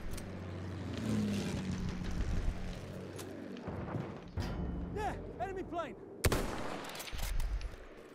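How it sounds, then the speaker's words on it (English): Battlefield 1 combat gunfire with rifle shots, tank fire and explosions, loud bursts scattered among rumbling vehicle noise, with a player's voice talking over it. "I'm shooting at everything."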